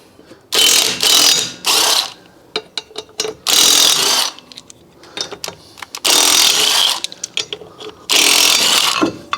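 A car being raised on a jack, rapid ratcheting bursts of a few seconds each repeating, separated by short clicks and pauses, close and loud.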